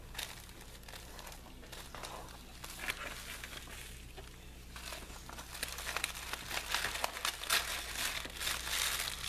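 Orange tissue-paper wrapping crinkles and rustles as a mailed package is opened by hand, starting soft and growing louder and busier toward the end.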